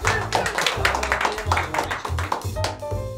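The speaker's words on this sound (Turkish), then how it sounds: "Alkış." A small group in a studio chat claps in quick, close rhythmic beats over a low humming background, with voices present.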